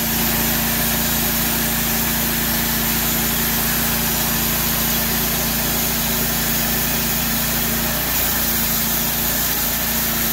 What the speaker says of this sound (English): As you see, this thing just powers through it. That engine is not even bogging down in the least.